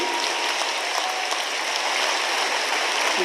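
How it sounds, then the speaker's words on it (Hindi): Audience applauding at the inauguration of Amrita Hospital in Faridabad, a dense, steady rattle of many hands clapping, sustained and fairly loud with no voices over it. "आपकी हाथ की करतल ध्वनि ने इस पूरे वातावरण को स्पंदित कर दिया"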